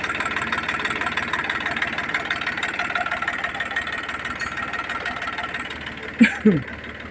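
A KM385 three-cylinder diesel engine idles close by after a fuel-delivery adjustment, running with a steady, even drone throughout, with a couple of sharp knocks near the end.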